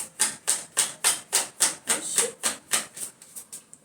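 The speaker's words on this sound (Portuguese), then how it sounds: "Deixa eu baralhar mais um pouco aqui." Tarot cards being shuffled by hand make about a dozen crisp, evenly spaced slapping riffles, close and alone, fading slightly toward the end.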